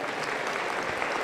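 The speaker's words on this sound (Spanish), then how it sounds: "Aplauso contento para el Señor Jesús." A Pentecostal church congregation claps steadily in a brief, dense burst of applause, with no voices standing out above the hands.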